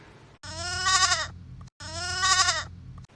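Two loud goat bleats close by, each a wavering, nasal cry lasting about a second, separated by a short pause.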